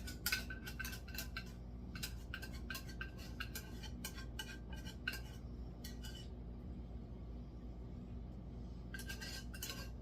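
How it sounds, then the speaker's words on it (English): Spoon clinking against a pan while cheese sauce is stirred into a potato mixture for au gratin potatoes, with bursts of rapid metallic taps separated by short pauses over a low steady hum. "Mix it kind of together."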